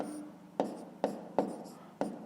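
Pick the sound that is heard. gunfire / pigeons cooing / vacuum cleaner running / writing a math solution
writing a math solution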